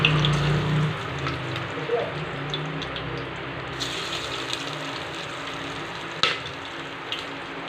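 Whole spices sizzle in hot oil in a pan for chicken biryani, a steady close frying hiss throughout with a brief sharp clink near the end.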